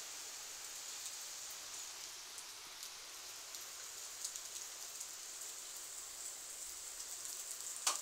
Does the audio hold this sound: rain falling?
yes